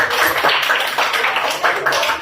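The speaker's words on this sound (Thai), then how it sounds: "ปรบมือให้เพื่อนลยเอาเลย" Classroom of students clapping for a classmate who answered correctly, a dense, loud patter of many hands filling the whole stretch with no talk over it.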